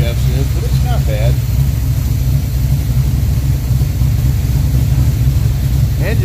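A 406 cubic inch pump-gas street engine running, a loud steady low rumble that holds throughout without revving, with someone talking over it.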